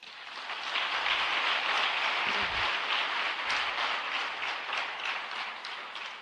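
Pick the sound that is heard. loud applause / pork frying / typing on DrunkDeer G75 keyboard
loud applause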